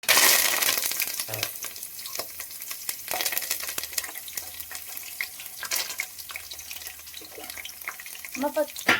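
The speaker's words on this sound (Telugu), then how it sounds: "ఇదిగో ముందుగా నూనె వేగాక ఇలాగా జీలకర్ర, ఆవాలు వేసేసుకోవాలి." Cumin and mustard seeds sizzle steadily in hot oil for a Karnataka-style uggani, a continuous frying hiss with scattered pops and stirring clatter, while a voice talks intermittently over it.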